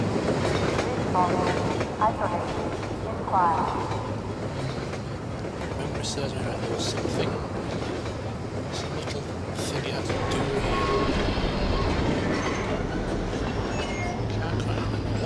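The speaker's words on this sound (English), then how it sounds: "Now the train has blocked the path." A train rumbles past in Half-Life 2, a loud continuous rolling clatter of wheels on rails with metallic clanks and squeals, while someone briefly speaks over it.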